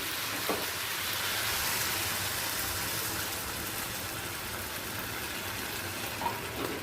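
A pan of chilli paneer gravy thickened with arrowroot bubbles and boils steadily. It gives an even, hissing simmer close by that holds without a break and has no talk over it.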